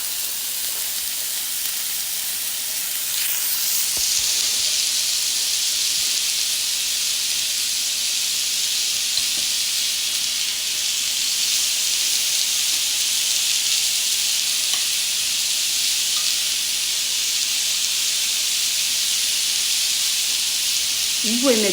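Food frying without fat on a plancha grill, a steady broad sizzle and hiss that swells after a brief quieter start and holds evenly, close and fairly loud with no talk over it.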